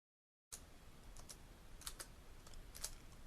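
Code being typed on a computer keyboard: irregular clusters of close, crisp key clicks that begin after a short silence and continue alone.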